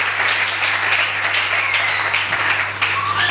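A church congregation at an evening Bible seminar breaks into sustained applause, a dense, steady wash of many hands clapping throughout, loud and close with a faint hum underneath.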